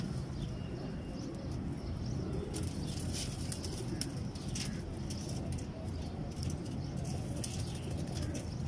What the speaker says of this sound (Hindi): देखें कैसे शानदार कबूतर आएंगे